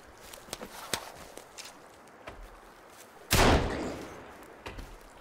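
A single loud gunshot bursts out partway through in the survival game Sons of the Forest, preceded by scattered footsteps and small thuds, with a short tail of decay afterward.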